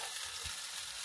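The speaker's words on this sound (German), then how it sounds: "Und hier braten die auf diesen Herd." Steady, close sizzling of food frying on a stove in a camper van kitchen, a continuous bright hiss with faint crackles and no voices.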